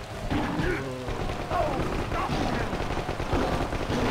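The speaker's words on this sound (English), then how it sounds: "There's a guy that's shooting you." Rapid gunfire rattles on in Predator: Concrete Jungle, dense and continuous bursts under occasional voice-like game sounds, with a low rumbling bed throughout.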